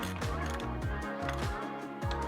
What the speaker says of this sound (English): We can now take our wrench and ratchet and secure the shaft in place.